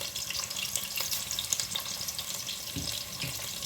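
Chopped onions and methi (fenugreek) seeds hit hot oil for a calabash dish, giving a steady crackling sizzle with light scraping and stirring, close and continuous with no talk.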